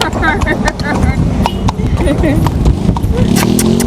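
Horse hooves clip-clop steadily on a street in Guyana, close and continuous, with occasional whinny-like sounds and people talking and exclaiming over the hoofbeats.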